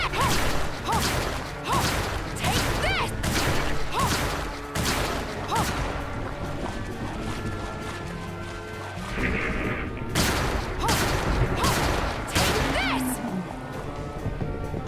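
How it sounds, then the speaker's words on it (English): Pistol fire in Bloodstained: Ritual of the Night, a run of loud, sharp shots in bursts with short pauses between, mixed with other game hit and whoosh effects. "Pistols in this game really don't do much damage, and the attack is really, really slow."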